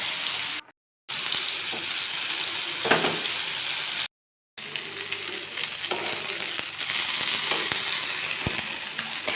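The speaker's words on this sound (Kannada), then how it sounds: "ಈಗ ನಾನು ಅಂಜಲ್ನ ತವಾ ಫ್ರೈ ಮಾಡ್ತಾವಳೆ." Kingfish frying on a hot tawa griddle gives a steady, close sizzle with scattered crackles and pops, broken by two brief silent gaps.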